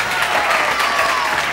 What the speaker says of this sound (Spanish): Otro aplauso, por favor, para esto.